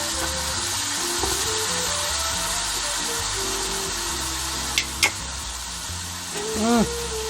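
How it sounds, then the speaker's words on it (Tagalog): Pineapple juice is poured into a pan of sizzling Bisaya humba, a steady close frying hiss with light stirring and clinks. A brief bubbling burst comes near the end. "and then lagay natin ang pineapple juice"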